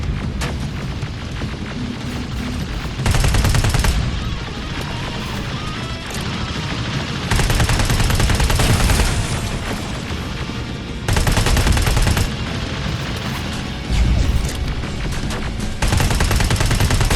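Heavy gunfire and crashing explosions aimed at a tank in the PS5 shooter Terminator: Resistance, loud dense bursts that swell and drop in blocks over a constant roar of battle, with no talking.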